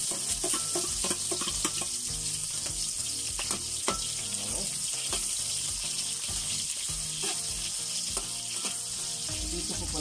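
Chopped onions hiss and crackle in hot cooking oil, a steady close sizzle with occasional stirring clatter and scraping of the pan.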